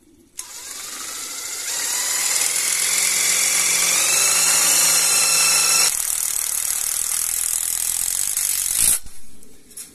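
A power drill whines loudly and steadily as it drives a self-drilling tech screw, the motor pitch shifting partway through before it cuts off abruptly.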